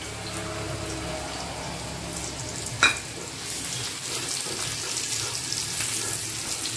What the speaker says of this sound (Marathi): थोडासा गोल्डन होईपर्यंत भाजून घ्यायचा ना.